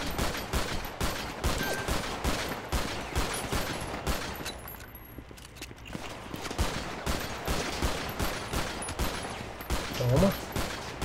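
Sustained bursts of rapid gunfire and overlapping shots during a police ambush and chase in the video game GTA 5, dense and continuous for several seconds with faint voices mixed underneath.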